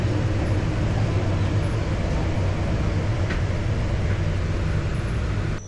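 The Turna Express night train between Dhaka and Chattogram runs on, a loud, steady rumble of wheels on rail heard continuously from inside the carriage.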